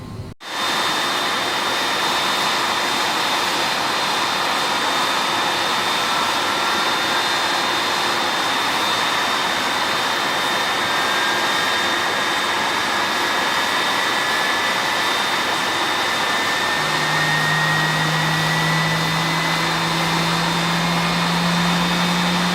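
Engine 3 of an MD-11 airliner in Microsoft Flight Simulator 2020 winds up loud and steady after a sharp start, a broad jet roar with a rising whine that climbs gradually across the spool-up.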